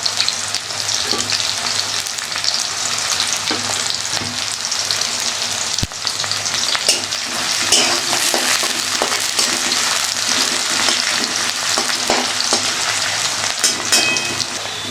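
Chopped onion and garlic frying in hot oil, a steady close sizzle and crackle running unbroken throughout, with an occasional stir.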